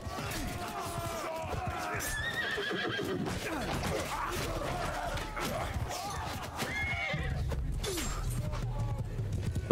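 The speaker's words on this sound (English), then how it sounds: "Stop shooting my horse, you bastard." Horses neigh and whinny in a Roman-era battle in Mount & Blade II Bannerlord, with hooves clip-clopping amid a busy, constant din of combat.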